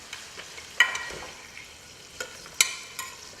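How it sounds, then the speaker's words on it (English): Chicken pieces and browned garlic fry in a pan with a quiet, continuous sizzle, broken by a few sharp clinks and scrapes of stirring. "You can hear it sizzling."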